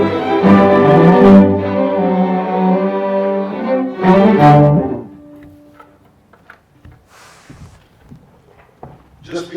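An orchestra plays the fourth movement of Beethoven's Symphony No. 5, loud sustained harmonic chords and strong accented hits filling the first half, then breaking off into near-silence with scattered faint clicks and rustles.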